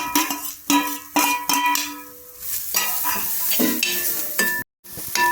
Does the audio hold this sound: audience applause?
no